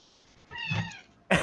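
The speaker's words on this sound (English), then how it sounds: "I have a cat in my office with me" A cat meows at an office door, wanting to be let in: one drawn-out, rising meow, close and clear, followed by a short sharp cry.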